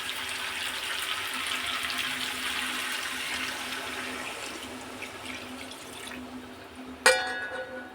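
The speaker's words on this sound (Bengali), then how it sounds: "এবার সেদ্ধ হওয়ার জন্য আমি জল দেবো।" Water poured into a pot of chicken and potato curry, a steady splashing rush that runs for several seconds and fades slightly before a sharp clink near the end.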